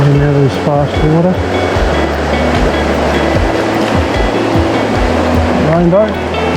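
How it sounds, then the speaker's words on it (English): Fast, turbulent water of a mountain stream in Victoria rushes steadily and loudly up close, a continuous broadband wash, while people talk over it. "Getting out of this fast water."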